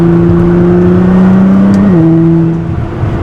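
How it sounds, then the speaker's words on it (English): A Nissan GT-R engine hums steadily at high revs while accelerating in third gear, its pitch dipping briefly with a gear change before holding steady again; loud and close, with no voices. "So just a small third gear acceleration."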